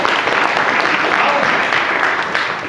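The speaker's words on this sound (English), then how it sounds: "We can clap for them." A church congregation claps during a Sunday worship service, dense, steady applause lasting a few seconds at a fairly loud level.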